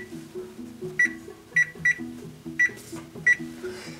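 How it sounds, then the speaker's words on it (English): Kitchen timer being set in a home kitchen while baking pumpernickel bread, giving five short sharp electronic beeps at uneven intervals over quiet background music. "I'm going to set our timer for 1 hour."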